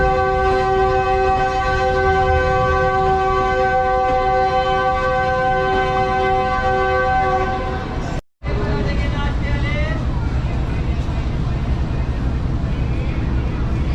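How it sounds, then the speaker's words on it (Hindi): Shalimar Express arriving at Hyderabad Junction station in Pakistan, a long steady horn blast ringing over the rumble of the train, then a brief cut and continued rolling rail noise with station bustle and faint voices. "हमारी ट्रेन पहुंच रही है हैदराबाद जंक्शन रेलवे स्टेशन पर।"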